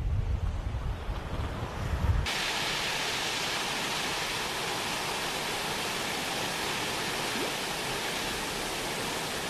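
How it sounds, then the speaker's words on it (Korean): Strong Siberian wind roars through the mountains in winter cold, a dense, steady broadband rush that buffets close and loud after a brief gustier opening, with no voices. "시베리아에서 불어닥친 삭풍이 앞을 가로막는다"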